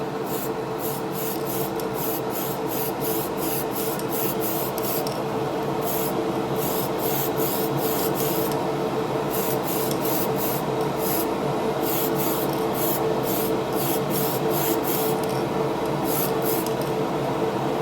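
Spray can applying light passes of base coat, a steady continuous hiss broken into repeated short bursts as the nozzle is pressed and released.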